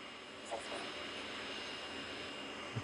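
A CRJ1000 jet lands in a flight simulator game, with a steady, dense engine and airflow roar that holds evenly throughout, plus a couple of faint brief knocks.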